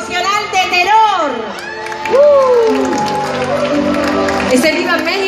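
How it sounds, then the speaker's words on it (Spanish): Audience applause and cheering at an inclusion gala during a carnival, a loud crowd roar with shouts and whoops, heavily mixed with amplified voices and music-like tones throughout. "Un aplauso"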